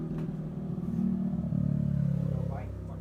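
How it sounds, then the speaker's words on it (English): A motorbike on the road outside rumbles past at a distance, its low engine drone swelling then fading behind someone speaking indoors. "Why does the motorbike always go out the road when we're recording?"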